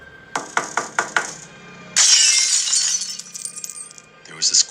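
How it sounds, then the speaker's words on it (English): Four sharp knocks strike kitchen window glass in quick succession, and after a short pause the window shatters in a loud, bright crash that fades into trailing tinkles. "There was this quick and sudden loud bang on the glass, followed by a window in the kitchen completely shattering."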